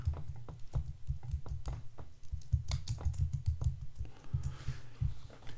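Typing on a computer keyboard while naming a new project in Premiere Pro, a quick irregular run of close key clicks over a low steady hum, then lighter taps at the end.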